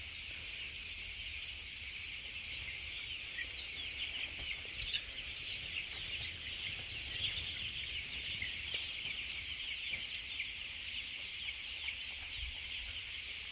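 A dense flock of broiler chickens in a coop cluck and chirp continuously, a steady wash of many overlapping bird calls at moderate distance, with no talking.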